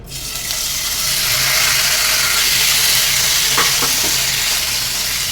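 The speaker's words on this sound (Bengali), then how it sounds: "চিকেনটা আমি ভেজে নেবো" Boneless chicken fries in hot mustard oil in a pan, a loud, unbroken sizzle up close, with a few brief stirring knocks near the end and no speech.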